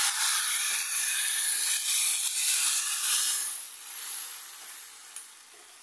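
Blended tomato with garlic and onion hits a hot pot and fries with a loud, steady sizzling hiss that fades slightly toward the end, with no talking over it.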